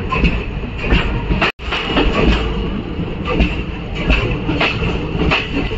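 The Dadar Sawantwadi Tutari Express rolling along the Konkan Railway, heard from inside a carriage as a loud steady rumble with rhythmic clickety-clack over the rail joints and a brief dropout.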